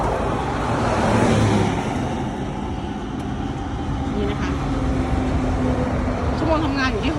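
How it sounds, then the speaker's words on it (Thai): The engine of a used Japanese combine harvester, a steady low droning rumble with a faint mechanical hum that runs throughout, loud and close, with someone talking over it. "เดี๋ยวจะให้ดู การติดเครื่องนะคะฟังเสียงเครื่อง"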